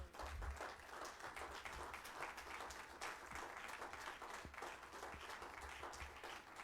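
A church congregation applauds during a sermon, a dense, continuous round of clapping from many hands filling the room at moderate loudness.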